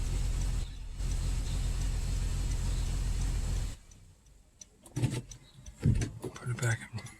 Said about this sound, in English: it's misfiring bad